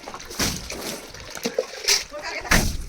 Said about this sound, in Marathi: मम्मी पण जॉईन झाली आहे पाणी मारायला.